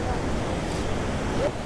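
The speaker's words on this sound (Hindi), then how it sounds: "काफ़ी तेज़ पानी आ रहा है यहाँ से" Fast-flowing Himalayan river water beside a wooden footbridge on a mountain trail, a steady broadband rush and roar with wind buffeting the microphone, constant and moderately loud throughout.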